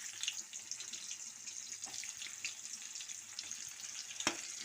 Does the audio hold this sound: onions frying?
yes